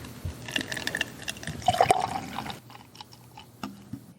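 Beer with fruity New Zealand hops pours into a glass, a close, splashy liquid fill that swells to a bright gurgle midway and then trails off into scattered drips.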